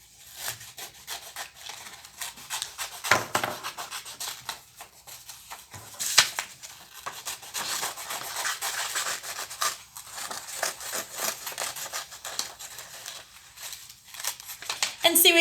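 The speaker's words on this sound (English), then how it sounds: "now you're going to cut your heart out" Scissors snip through paper while a paper heart is cut out, a run of close rasping cuts and rustles with intermittent voices talking over them.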